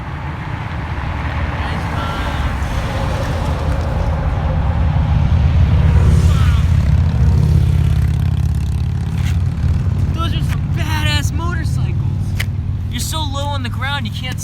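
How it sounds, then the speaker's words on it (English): A car approaches along a road and its engine and tyre noise swell to a close peak, then ease off, while a person talks over it in the latter part. "here comes a car."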